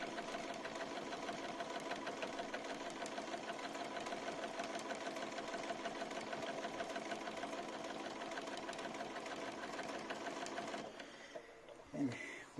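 A sewing machine stitches quilt binding through a SuiSei A9S binding attachment, running in a fast, even whir for about eleven seconds before stopping, with a brief thump at the end.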